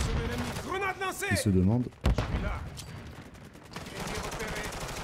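Call of Duty Modern Warfare III multiplayer gunfire cracks in short bursts and single shots, close and loud. Someone talks over parts of it.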